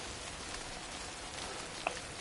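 Rain falling in the Death Stranding video game makes a faint, steady hiss of drops with one brief brighter tick near the end.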